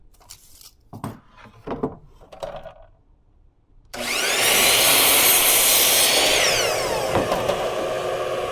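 A miter saw spins up and slices through a 10.5-inch wooden piece, a loud sustained whine of the blade cutting wood for about four seconds and then winding down, after some quiet handling noises.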